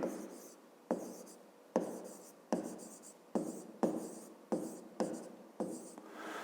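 A pen writes out a fifth-grade math exercise on paper in a quiet room, giving eight or nine short scratching strokes in a regular rhythm, each starting sharply and fading, close and fairly soft.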